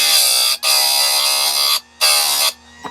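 Harbor Freight electric chainsaw sharpener grinding chain teeth: a loud, steady high-pitched whine in long bursts, briefly dipping between passes, with no talking.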